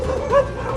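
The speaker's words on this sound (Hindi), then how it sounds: "बीच सड़क भालू दिखा तो कुत्तों ने उसका पीछा शुरू कर दिया।" A street dog on a road in Srinagar gives a single short, sharp bark or yip while chasing a bear, close and clear.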